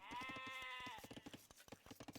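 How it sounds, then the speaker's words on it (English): A sheep bleats in the real-time strategy game Age of Empires, a wavering call lasting about a second over a steady, rhythmic thumping game soundtrack that continues alone afterward. "Do we just go around killing sheep?"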